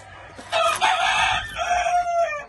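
A Fosco Negro rooster crows loudly nearby in one long, drawn-out call, with a short cluck just before it.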